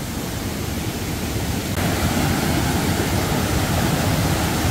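Loud, steady roar of a waterfall in a mountain valley stream at Yumyeongsan in Gapyeong, a dense broadband rush that swells slightly stronger partway through and continues without a break, close and without talk.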